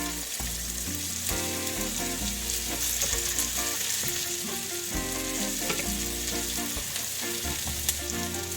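Onions and sweet potatoes fry in a pan for a Spanish tortilla, giving a steady, close sizzle with occasional stirring. Background music plays underneath and nobody speaks.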